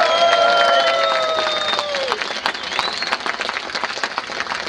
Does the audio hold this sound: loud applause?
yes